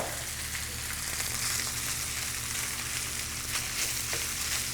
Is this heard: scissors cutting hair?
no